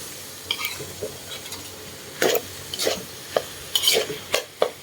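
Curry puff filling seasoned with pepper is stir-fried in a pan, giving soft sizzling under a run of sharp scraping stirs and clinks that come close and fairly loud, several quick strokes toward the end.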